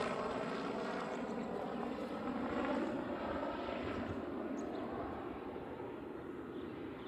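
Boeing 787 Dreamliner at Honolulu airport, a sustained broadband jet roar at moderate distance that peaks midway and then slowly fades, with no talk.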